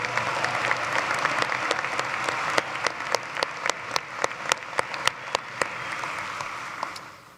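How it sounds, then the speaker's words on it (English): Sustained audience applause in a large arena at a commencement ceremony, honoring the musicians, steady and full with a few sharper individual claps standing out near the end. "Let's give them a round of applause."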